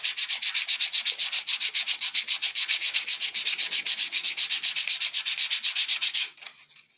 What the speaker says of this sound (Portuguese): E aí você vai lixar devagarinho todo ao redor.